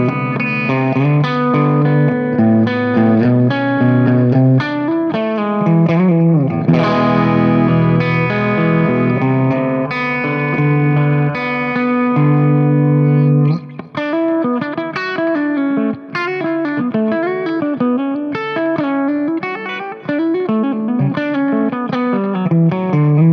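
A Harley Benton Fusion Max electric guitar plays a clean tone with a shimmering, chorus-like effect. It moves from chords to melodic runs, loud and steady, with no talking.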